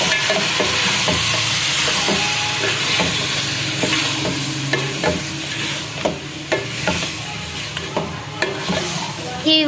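Goat meat and tomatoes fry in a pan with a continuous loud sizzle, while regular scraping stir strokes knock against the pot, growing more frequent toward the end; no one speaks.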